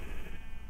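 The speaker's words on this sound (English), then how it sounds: "Got a bunch of sheep so that I can get wool for the shepherd" A sheep bleats once in Minecraft, a short, fairly faint bleat heard by itself.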